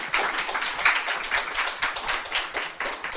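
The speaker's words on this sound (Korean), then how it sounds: "야, 일단 여기서 박수 한번" Audience at a Korean talk-concert stage event clapping together, a dense, steady round of applause lasting a few seconds without voices.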